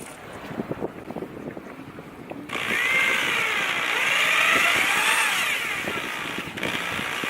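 A handheld power drill bores a hole during portlight installation, starting after a few soft handling knocks. It becomes a loud, sustained whine that rises and falls in pitch as it cuts, then settles toward the end.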